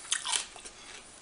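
A cucumber sushi roll is bitten and chewed close to the mic, a crisp crunchy bite at the start and then faint soft chewing that fades out.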